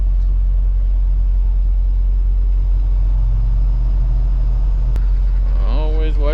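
A semi truck with tandem rear axles pulls away onto the road from Logan, Utah, its heavy diesel rumbling steadily up close, with a brief whining rise near the end as it gathers speed.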